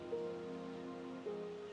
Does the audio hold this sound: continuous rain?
yes